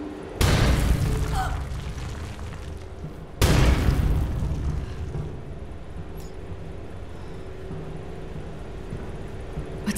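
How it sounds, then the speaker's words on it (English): Structure collapsing in Marvel's Avengers game: two heavy booms a few seconds apart, each followed by a long rumbling, crumbling tail that slowly fades under a steady background roar. "Sounds like this whole thing's falling apart."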